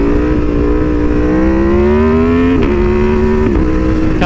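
Aprilia Tuono V4R V4 motorcycle engine revving hard in first gear during a wheelie, a loud, steady close-up drone whose pitch climbs, dips sharply around gear changes and rises again, with no talking.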